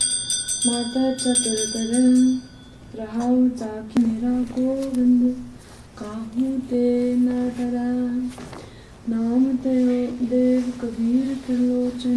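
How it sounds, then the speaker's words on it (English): A bell rings in repeated bursts of bright, sustained strikes during an Akhand Path, a continuous Sikh scripture reading, each cluster ringing out and fading before the next, clear and fairly close with no talking. "ring the bell"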